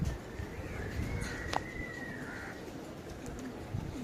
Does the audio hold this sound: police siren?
no